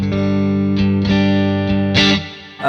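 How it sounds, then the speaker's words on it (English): Electric guitar played through a low-to-mid gain portable tube amplifier at low volume, mildly overdriven sustained chords ringing loud and close, restruck a few times with a fresh attack near the end. "leaning into that sort of low to mid gain organic kind of sounding tube amplifier in a sort of a portable low volume package"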